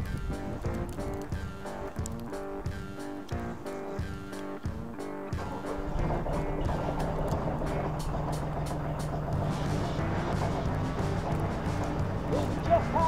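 A Branson 2515H tractor plowing snow during a March snowstorm, its engine rumble growing louder and denser partway through, with music playing over it.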